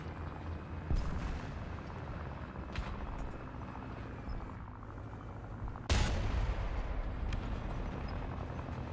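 A KV-220 tank's cannon fires in an armored combat game, one sharp, loud blast cutting through a steady rumbling drone of engine and battlefield noise, with a fainter thump a few seconds earlier.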